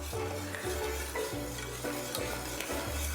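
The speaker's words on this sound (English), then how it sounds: "and continue stirring" Thickening pandan custard stirred in a pot just taken off the stove, a steady series of scraping strokes repeating roughly twice a second over a low continuous hum, close and fairly quiet, with no voices.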